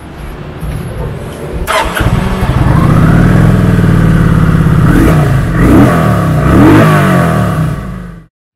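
A 2020 Kawasaki Vulcan 900 Classic LT midsize cruiser motorcycle engine cranks over, catches and revs with a steady rumbling idle that swells through a couple of throttle blips, loud and close, then cuts off.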